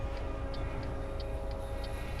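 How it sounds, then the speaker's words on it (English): A freight train passes in the American Truck Simulator video game, a steady loud rumble with a continuous drone and faint periodic high clicks, no speech. "Wow, freight train hype straight over there"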